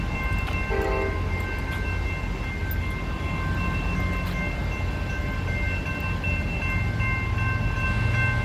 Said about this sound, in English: Amtrak's here.